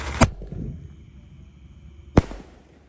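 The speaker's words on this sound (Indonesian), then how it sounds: "Ini ada mercon Bima Sakti 3, langsung saja kita nyalakan." Two sharp, loud firecracker blasts from a Bima Sakti 3 firework set off during a Ramadan night fireworks party, spaced about two seconds apart with crackling residue and quiet outdoor ambience between them.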